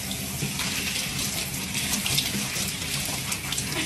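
Steady rush of shower water running, a continuous hiss of spray and splashing that stays even and close for the whole stretch, with no voices over it.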